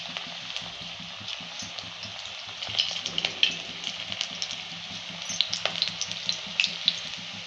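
Fenugreek kofta balls dropped one by one into hot oil and frying on reduced heat, a steady bubbling sizzle that grows busier with crackling pops, close and moderately loud.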